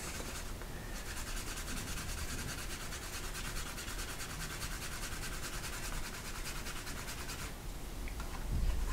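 A wood slicker rubs rapidly back and forth along the edge of a leather flap wallet, producing a steady, close, dense scratchy friction that runs continuously before easing off near the end.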